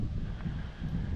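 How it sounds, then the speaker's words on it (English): Strong wind gusts roar into the microphone outdoors on an overcast, smoky day, a dense, close, continuous rumble with no voices. "Very windy."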